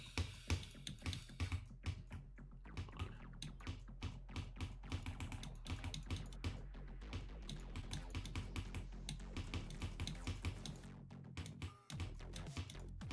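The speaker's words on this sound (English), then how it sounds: "I'm clicking way too early there for some reason." Rapid clicking of a mouse or key while playing Geometry Dash, a dense run of sharp, close taps in uneven quick rhythm over faint game music, pausing briefly near the end.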